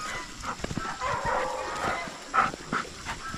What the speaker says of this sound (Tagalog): Mga malaking aso.